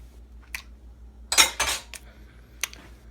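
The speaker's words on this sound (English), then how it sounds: "stir that shit up in there" Spoon stirring mayonnaise and ranch into cooked pasta noodles in a bowl, giving a few sharp metal clinks against the dish and a couple of louder scraping strokes, close and without talk.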